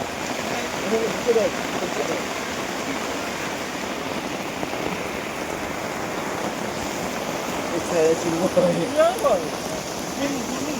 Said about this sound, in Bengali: এটা পাহাড়ের বৃষ্টি